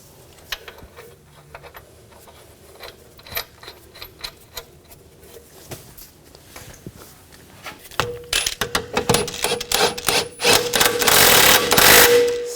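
Wrench ratcheting as a control arm bolt and nut are snugged down on a 2000-2006 BMW X5 rear suspension: scattered light metallic ticks and clicks, then a denser, louder burst of rapid ratchet clicking near the end.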